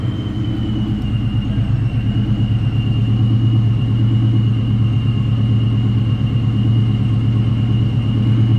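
Exhaust of a 1999 Ford Mustang SVT Cobra convertible with a five-speed manual, a loud, steady low idle rumble that stays even and unbroken throughout, with no talk over it.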